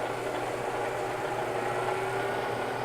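Bridgeport milling machine motor running with its belt-type transmission while the speed lever is adjusted, a steady low hum and whine with a faint tone shifting midway, continuous and moderately quiet.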